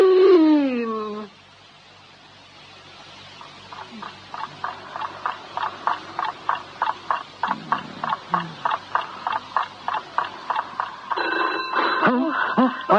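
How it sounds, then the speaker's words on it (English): A telephone ringing at three in the morning in a house, heard as a long run of quick, evenly spaced rings at moderate distance, with voices speaking before and after. "It's the phone."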